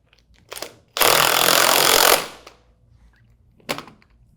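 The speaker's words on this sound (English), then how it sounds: "Now you're going to install your impeller nut. Tighten with an impact." An impact wrench tightens the impeller nut on a 200 series pump, a loud hammering rattle of just over a second between short bursts of handling and clanks.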